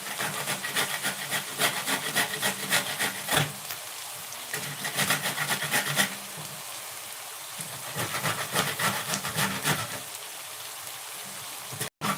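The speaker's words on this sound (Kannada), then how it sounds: "ರುಬ್ಕೋತಾ ಇದ್ದೀನಿ" Rhythmic scraping of ingredients being ground by hand on a stone while preparing avalakki uppittu for breakfast, steady strokes repeating in bursts with brief pauses, close and moderately loud.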